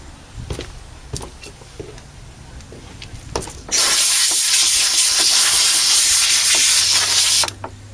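Compressed air from a shop compressor blasts dust off a computer cover in one loud, steady hissing burst of about four seconds, after a few light handling knocks and taps.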